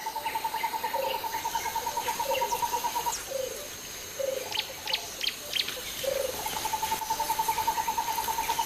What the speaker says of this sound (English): The loudest animal in the jungle is the turaco.